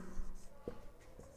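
Writing on a board during a classroom lesson, a few short faint scratchy strokes in quick succession heard close up.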